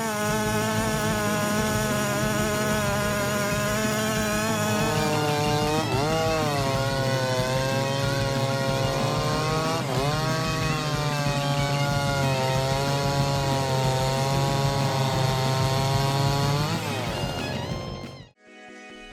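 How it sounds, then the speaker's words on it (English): Chainsaws cut trees with a loud, sustained, buzzing whine whose pitch dips and rises under load several times before cutting off abruptly near the end. "Let's watch the following final moments to see the amazing power of chainsaws."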